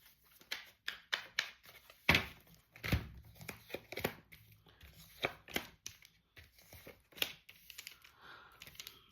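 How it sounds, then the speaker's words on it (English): Tarot cards being shuffled by hand, a rapid series of crisp riffling and slapping bursts, close and fairly quiet, with brief pauses between handfuls and no talk. "I'm going to just shuffle it."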